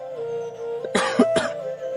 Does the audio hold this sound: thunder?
no